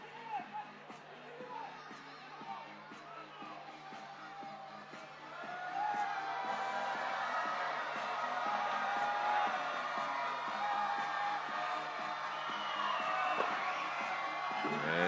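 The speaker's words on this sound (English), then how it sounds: "The crowd is making as much noise as they can." An arena crowd at a FIBA 3x3 basketball quarter-final in Chengdu roars during free throws. The noise starts as a murmur under a commentator's voice and swells into sustained loud cheering and whooping.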